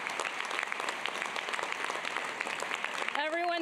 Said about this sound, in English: Everyone, please join me in giving one more round of applause for Pooja and Leah.